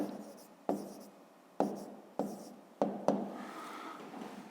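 Numbers being written by hand on paper, with sharp pen taps and short scratchy strokes in bursts, close and quiet.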